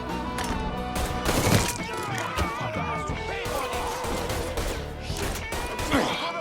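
Chaotic gunfight in the crime game Mafia 3, with bursts of gunfire, crashes and impacts layered over shouting voices and a busy game soundtrack, dense and continuous throughout.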